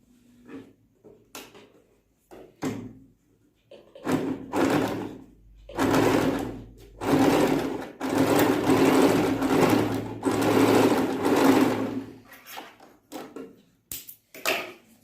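A sewing machine stitching a dupatta runs in several loud bursts of rapid mechanical whirring, separated by short pauses, clicks and fabric handling, with brief stops and starts toward the end.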